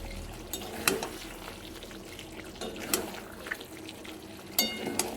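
Mutton curry, a thin goat-meat broth, being stirred gently in a pot, soft wet sloshing and a few sharp utensil clinks against the pot's sides over a low simmering background, no talking.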